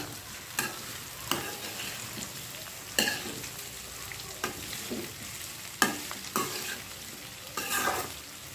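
Bitter gourd pieces fry in a pan for a spicy garlic dish, with a steady sizzle broken by a series of sharp scraping stirs of the spatula at irregular intervals; close and moderately loud, with no talking.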